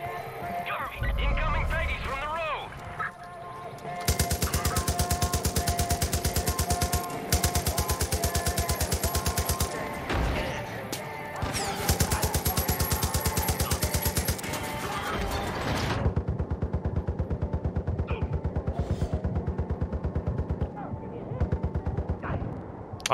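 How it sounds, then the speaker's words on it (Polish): Sustained machine-gun bursts and mortar blasts in the video game Far Cry 5, rapid loud rattling fire that runs in long stretches with short pauses, mixed with intermittent speech. "Kid, I'm seeing mortars and MGs outside."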